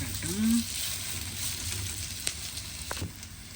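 Eggplant fries in masala oil with a steady close sizzle and a couple of brief clicks, a short tonal blip near the start.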